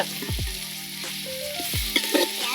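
Potatoes sizzle and fry in a pan for Maggi noodles, with spatula stirring scrapes and light clatter over a steady frying hiss, close and moderately loud.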